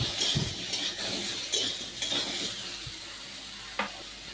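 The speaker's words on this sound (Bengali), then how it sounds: "বেগুনও ভাজা হয়ে গিয়েছে" Eggplant fries in oil with a bright, hissing sizzle and a few clinks and scrapes of a utensil against the pan, fairly quiet and steady.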